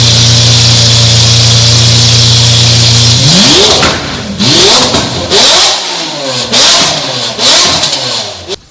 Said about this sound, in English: I got the 1016 Industries exhaust put on my Aventador